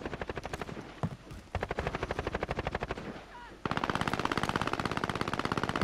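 Rapid automatic gunfire in Call of Duty rattles in sustained bursts, with a pause, then a louder continuous stream of shots; a voice briefly speaks.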